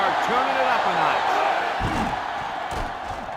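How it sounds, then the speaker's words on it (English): A stadium crowd roars loudly and continuously in a college football video game, with a commentator's voice over the din and a couple of thumps near the end. "It's arguably the loudest crowd in the nation,"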